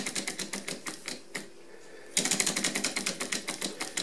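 A 3D-printed Stirling engine is nudged by hand to keep it running. It gives a rapid, regular mechanical ticking up close, then goes briefly quiet before resuming louder and faster.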